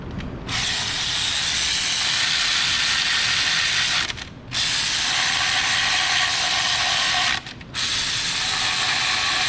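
A ratchet wrench clicks rapidly and continuously while turning the ignition coil bolts on a Honda CR-V engine, loud and close, with two brief pauses between bursts of ratcheting.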